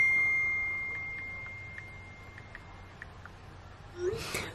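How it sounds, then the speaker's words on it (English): A phone's text message notification chimes as a series of soft, high, evenly spaced pings against a quiet room background, ending with a brief rustle; no one speaks. "that's a text message"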